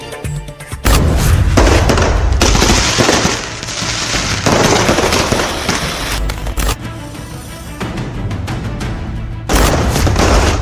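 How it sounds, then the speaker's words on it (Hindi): Diwali firecrackers bursting in a city, a loud dense volley of crackling bangs and booms with a few short pauses between barrages. "देश भर में दिवाली पर जमकर पटाखे फूटे।"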